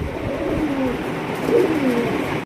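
Pigeons at a pigeon farm, including Budapest and Damascene breeds, coo steadily in soft, rolling calls that overlap throughout, with one fuller burst of cooing near the middle.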